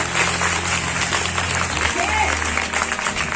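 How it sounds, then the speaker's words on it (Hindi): School students and audience clapping together for the children during a motivational class, a steady, full burst of applause lasting a few seconds with a faint voice over it. "ताली बजा दो मेरे बच्चों के लिए"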